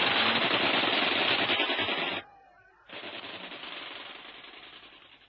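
A Bren light machine gun fires up in a jungle tree, two long sustained bursts of rapid rattling shots separated by a brief pause, loud and close with a slightly muffled, vintage recording quality.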